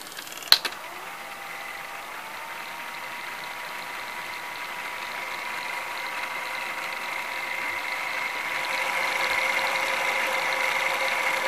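An NEC N966U VCR fast-forwarding a tape gives a steady mechanical whir with a rising tone after a brief click at the start. The hum holds close and continuous and grows slightly louder toward the end, with no voices.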